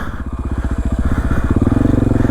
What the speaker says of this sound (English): What I usually do to try and let the motor cool down is I try and run it in a lower RPM